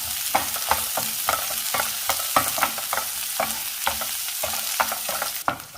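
Thinly sliced onion frying in a pan for a jackfruit seed thoran, a constant sizzle broken by a brisk regular rhythm of spoon scrapes and taps as it is stirred.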